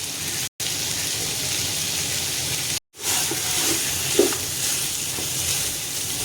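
Beef stew sautéing in a pot with ground nutmeg, cinnamon, cardamom, cloves and pepper, a steady broadband sizzle and hiss broken by two brief silent gaps, with a few soft stirring clicks.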